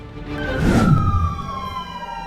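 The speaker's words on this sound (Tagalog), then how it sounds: "Sunod-sunod ang dating ng mga truck ng bumbero para apulahin ang sunog" Fire truck siren wailing at a house fire in a residential barangay, a single rising-then-falling tone sweeping through at moderate distance and fading off, with no voices.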